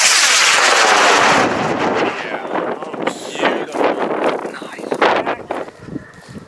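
A high power model rocket launches with a loud roaring rush of exhaust that fades over a couple of seconds, followed by gusty wind noise and voices talking.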